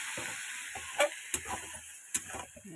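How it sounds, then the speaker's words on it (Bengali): Food sautés in a pan for a Bengali dish, a quiet sizzle broken by a few sharp scrapes and knocks of stirring. "ভালো করে একটু কষিয়ে নিই।"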